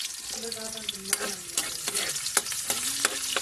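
Garlic sautés in a pan until brown for ginisang munggo, a soft steady sizzle broken by sharp clinks and scrapes of a spatula stirring against the pan.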